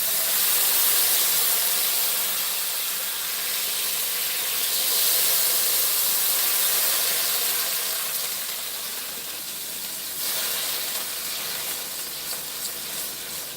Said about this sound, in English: I'm gonna rinse that hot pan.